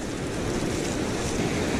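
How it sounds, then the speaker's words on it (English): Ocean surf breaking on an Oregon beach while surf fishing for perch, a steady close wash of waves with wind noise and no talking. "There comes a wave for you."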